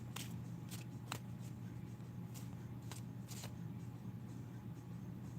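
Tarot cards being shuffled by hand in a quiet room, a series of short riffling bursts over a low steady hum, close and fairly soft with no talking.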